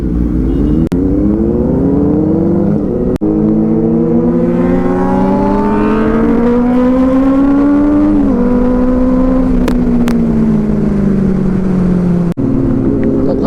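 Cars rev and race on a Sunday ride, with loud, sustained engine drones climbing and falling in pitch as they accelerate close by, and occasional sharp knocks, with no talk.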